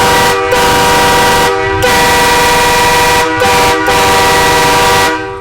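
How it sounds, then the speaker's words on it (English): Loud, blaring truck air horn blasts with a rich harmonic tone, several long honks separated by brief gaps. "Air horns in Texas. Way louder, huh?"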